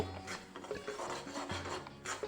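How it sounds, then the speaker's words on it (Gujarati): Semolina roasting in ghee in a pan over a low flame for rava sheera, stirred continuously with dry rasping, scraping strokes that repeat in an uneven rhythm, close up, with no talk. "શેકવાનો છે ઘીમાં રવાને સતત હલાવવાનો છે નહીતર આપણો રવો નીચેથી બળી જશે"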